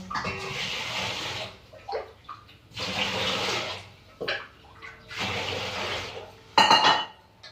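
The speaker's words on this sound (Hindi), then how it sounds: "तो लीजिए हमने चावल धो के रख दिया है" Rice being washed in water: water sloshes and swirls in bursts, with pauses between, ending in a quick clink of a pot or dish.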